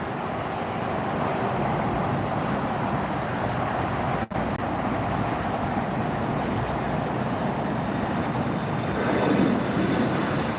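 A Condor airline jet departs LAX, heard from the end of the runway as a loud, steady engine roar that fills the scene without a break, with a faint distant traffic hum underneath.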